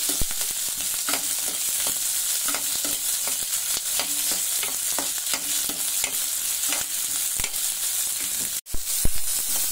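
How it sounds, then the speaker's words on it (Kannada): Onions frying and being stirred in a home-style tempering of curry leaves, mustard seeds, cumin and urad dal in a pan, with steady close sizzling and frequent scraping stirs throughout and a sharp knock near the end. "ಕರಿಬೇವು ಸಾಸಿವೆ ಜೀರಿಗೆ ಕಟ್ ಉದ್ದಿನ ಬೇಳೆ ಎಲ್ಲ ಫ್ರೈ ಆಗ್ತಿದ್ದಂಗೆ ಈರುಳ್ಳಿ ಸೇರಿಸ್ಕೊಳ್ಳೋಣ"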